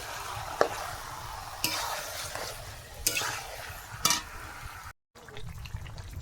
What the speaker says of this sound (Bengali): এই যে চিকেনটাকে ঢেলে দিলাম এবার এটাকে ভালো করে মিশিয়ে নেব এর সাথে মশলার সাথে